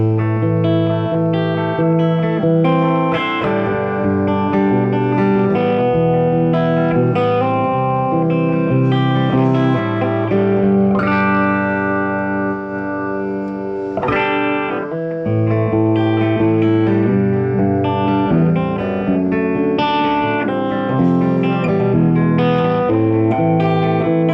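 Clean electric guitar, an Eart E-335 on the bridge pickup, picked with the fingers, ringing notes and chords in a steady flowing pattern, washed in reverb and echo, playing alone without pause.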